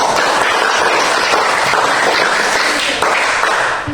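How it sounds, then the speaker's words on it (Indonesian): An audience applauds after a group finishes presenting its discussion, producing a steady, fairly loud wash of clapping that runs throughout and tapers slightly at the end. "Kita berikan tepuk tangan."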